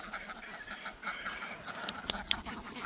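Several ducks quack and honk at a moderate distance on a homestead, a loose, irregular chorus over faint outdoor background, with a couple of sharp clicks near the end.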